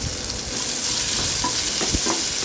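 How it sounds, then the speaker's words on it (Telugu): Thinly sliced onion fries in a pan with green chili for a rava dish, giving a dense, steady sizzle and hiss with faint stirring clinks, close by and without talk. "సన్నగా కట్ చేసుకున్న ఆనియన్ ఒకటి వేయాలి, వేసి బాగా వేయించుకోవాలి."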